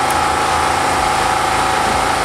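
A steady generator engine drones continuously at close range beside its exhaust pipe, a low mechanical rumble with a constant hum and no breaks.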